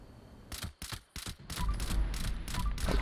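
Semi-auto fixer rifle firing in Fallout 76, about eight sharp shots in quick succession with a steady rhythm, loud and close.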